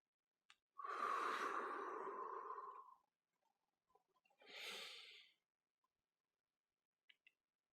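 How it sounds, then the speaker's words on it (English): A long, audible breath pushed out during a yoga stretch, followed by a shorter second exhale, close and isolated against near silence. "Breathe it out."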